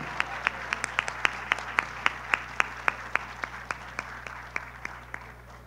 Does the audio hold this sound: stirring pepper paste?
no